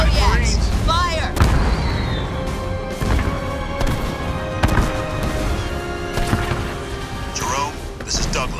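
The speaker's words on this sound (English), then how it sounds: "Kodiaks, fire!" Heavy artillery fire from Kodiak units in the Halo Wars 2 game, a sequence of booming blasts and crashes layered over orchestral score and battlefield noise, with a voice shouting briefly near the start.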